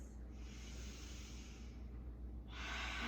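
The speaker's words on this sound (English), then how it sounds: "Let's take a few cleansing breaths." Slow, deep cleansing breaths drawn during a senior yoga cool-down, a soft steady airy rush with a longer, brighter exhale swelling near the end; close and quiet, with no talking.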